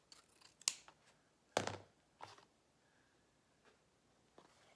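Scissors snipping off a length of ribbon while making a red bow, a few crisp, close cuts separated by quiet pauses.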